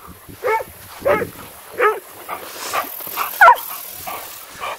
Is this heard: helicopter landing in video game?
no